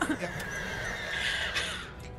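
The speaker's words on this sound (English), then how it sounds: "They are horses. They're making horse noises." A horse in the video game Starbound neighs and whinnies loudly near the start, then softer whinnying trails on over faint background sounds.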